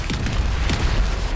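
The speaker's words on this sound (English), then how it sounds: "Oh, exploded." A deep, rumbling explosion in the video game Anthem, a short low boom with a rolling, crackling tail, loud and close.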